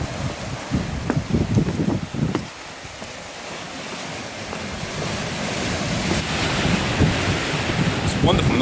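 Sea waves wash steadily against the Skye coastline under heavy wind buffeting the microphone, a broad continuous roar with a few louder rumbling gusts early on.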